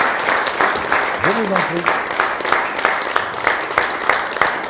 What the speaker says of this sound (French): Formidable, on peut vous applaudir.